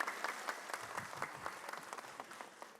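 Studio audience applause during an Islamic lecture broadcast, a steady patter of many hands clapping at moderate volume without voices.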